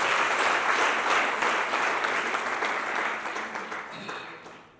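A church congregation applauding in praise of God, dense steady clapping that fills the space and slowly fades away near the end.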